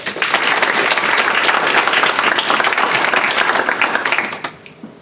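An audience gives dense, loud, sustained applause to welcome a speaker at a talk, clapping steadily before it tapers off quickly at the end.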